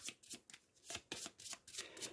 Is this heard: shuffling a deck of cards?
yes